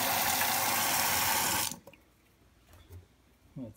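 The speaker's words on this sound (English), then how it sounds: "So I'm going to rinse this glass." Tap water runs steadily into a glass being rinsed, a loud, dense spray that stops abruptly partway through, followed by a few faint clinks and handling noises.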